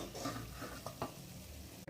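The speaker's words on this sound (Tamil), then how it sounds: "எண்ணெய் சூடானதும் ஒன்றா உள்ளே போட்டு எடுத்துடலாம்" Meal maker cutlets frying in hot oil, a faint, short stretch of soft sizzling with a couple of light stirring scrapes.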